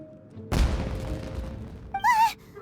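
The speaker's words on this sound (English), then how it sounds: "It sounded like fireworks." A firework burst in the Genshin Impact video game, one loud booming blast that rumbles and fades over about a second and a half, followed by a short bright tonal chime.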